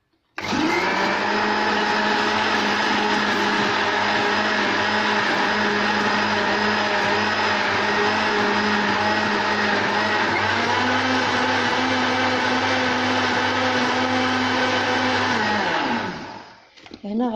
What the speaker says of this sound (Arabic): غادي نميكسي هاد الحليب وهذا مزيان والبيض